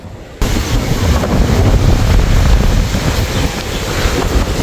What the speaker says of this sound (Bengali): তীব্র বাতাস এবং ঢেউ থাকায় জাহাজগুলো মাঝ নদীতে নোঙর করে রাখছে